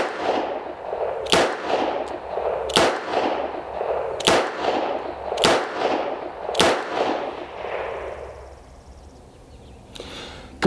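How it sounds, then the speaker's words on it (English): A Henry Big Boy revolver fires .38 Special rounds double action at a silhouette target 7 yards away: six loud, sharp shots roughly a second apart, each followed by a long echoing reverberation that fades out after the last shot. "We're going to do these double action center mass on the silhouette target"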